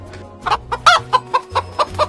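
A hen clucks in a quick series of short, close calls, fairly loud, with a low steady hum underneath and no talking.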